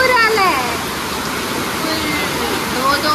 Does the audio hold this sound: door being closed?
no